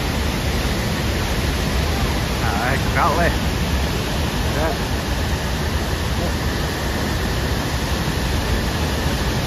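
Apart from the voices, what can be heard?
waterfall in Yorkshire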